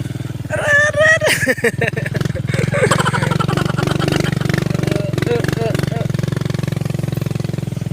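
A motorcycle on a farm runs with a loud, rapid, rough engine throb that continues steadily close by, with people talking over it early on.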